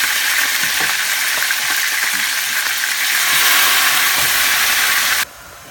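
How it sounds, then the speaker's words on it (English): A steady, loud sizzling hiss of chicken frying in a hot pan continues for several seconds, then cuts off abruptly to a quieter background. "we're going to cook all the chicken in the frying pan"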